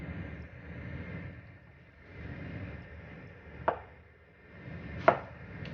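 A knife chops an onion on a board with two sharp, isolated cuts a bit over a second apart, faint against quiet room background.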